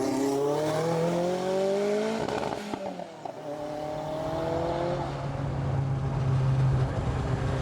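Engine and road roar from a Kimera EVO37 supercar on the move, a steady tone whose pitch rises then drops sharply near the middle before building again, close and fairly loud with no talking.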